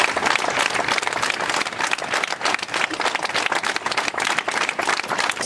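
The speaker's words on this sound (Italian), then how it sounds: "Quindi un lungo applauso a squarciare il silenzio" Long, vigorous applause from a crowd at a commemoration for a crime victim, dense and close with individual claps audible, sustained throughout without talk.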